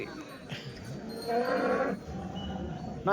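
Cattle at the Punganur weekly cow market, where a cow gives a drawn-out moo in the middle over a busy outdoor murmur, with another brief call at the end.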